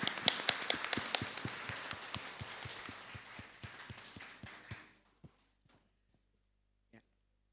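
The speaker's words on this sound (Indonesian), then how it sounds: "Tepuk tangan yang meriah sekali lagi." A church congregation claps, starting as brisk, fairly close applause that thins out over about five seconds into a few scattered claps, then silence with one last clap.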